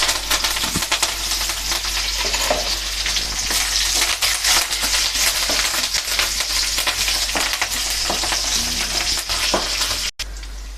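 Mustard seeds, cumin, dried red chillies, green chillies and curry leaves frying in hot oil for a tempering, giving a loud, steady crackling sizzle with sharp pops throughout, close up and with no talk.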